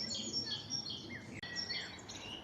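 A great tit sings a series of high, thin chirping notes, fairly faint, over a soft outdoor background hiss.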